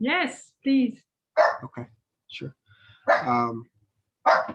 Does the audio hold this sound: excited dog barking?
yes